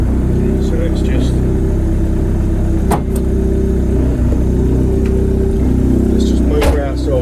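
A Ford Fiesta Cosworth engine idles loud and close with a deep steady rumble, broken by a couple of sharp clacks and clunks as the car is moved out of a workshop, with someone speaking over it.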